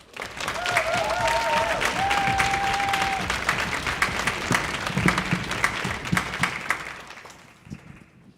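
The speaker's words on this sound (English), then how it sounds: "Would you give him a round of applause?" An audience at a California State University Dominguez Hills stage event breaks into loud, sustained applause with a few whistles early on, the clapping gradually thinning and fading away near the end.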